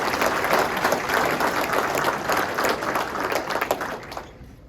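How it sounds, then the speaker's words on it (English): Audience clapping at a high school basketball awards lunch, a crowded roomful of hands applauding together at a steady pace before tapering off and fading to quiet at the end. "Let's give another round of applause for that group."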